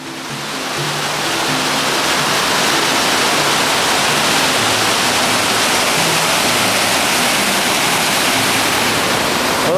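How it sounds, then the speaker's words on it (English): A big waterfall roars close by, a dense, steady broadband rush of falling water that holds unbroken throughout with no voices. "there's a big waterfall behind me"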